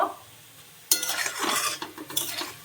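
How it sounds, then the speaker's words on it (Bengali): Palm fritters (taler phuluri) drop into hot oil for deep-frying: a sudden loud, bubbling sizzle bursts in after a near-silent start and carries on, with light clinks of a utensil scattered through it. "লাল লাল করে ভেজে নেব"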